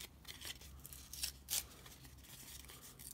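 Fabric or material torn by hand from bottom to top, a faint close ripping with short scratchy bursts spread over a few seconds.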